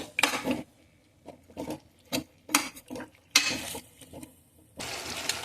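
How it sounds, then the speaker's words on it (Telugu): Chicken being mixed with turmeric and salt in a pot: a utensil scrapes and clatters in irregular bursts with wet squelching, close and moderately loud, separated by short quiet gaps. "బాగా అంతా కలిసేటట్టు కలుపుకోవాలండి"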